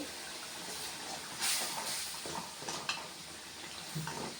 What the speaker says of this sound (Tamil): பூண்டு குழம்பு நல்லா எண்ணெய் பிரிஞ்சு வந்து நல்லா தலைன்னு வெந்துட்டுருக்குது